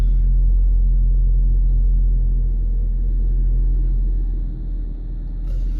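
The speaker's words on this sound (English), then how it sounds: "push button start down the side here, we can start this one up. There it fires to life. 2-litre inline 4-cylinder." A 2-litre inline four-cylinder car engine idles after a push-button start, giving a loud, close, steady low rumble with a slight dip and swell near the end.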